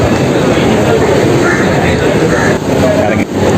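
A Vande Bharat train arriving at a station rumbles and roars loudly nearby, with a crowd of voices chattering under the noise.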